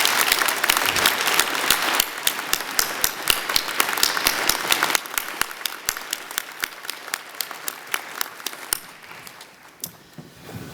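Sustained applause from a convocation ceremony audience honoring a symphony wind ensemble, dense steady clapping throughout that gradually thins toward the end, with no talking.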